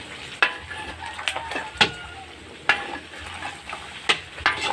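Pork fries in a pan as its fat renders out, giving a steady sizzle broken by irregular scraping and clattering stirs, close by.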